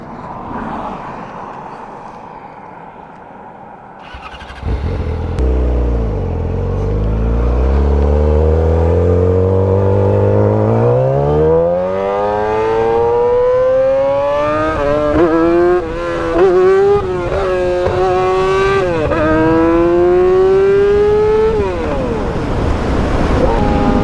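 A 2007 Yamaha R6 sport bike with a full exhaust and Power Commander 5, revved hard and close, engine note climbing repeatedly through high RPM in rising sweeps with short drops between, loud and raw throughout.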